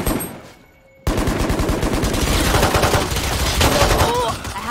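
Rapid gunfire from a shooter video game bursts in after a brief quiet start and keeps rattling loudly and continuously, with dense overlapping shots and a few higher electronic chirps near the end.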